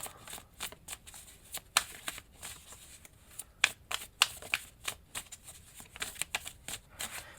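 Tarot cards being shuffled by hand, a run of crisp riffling and slapping bursts with brief pauses between them, close and fairly quiet with no voices.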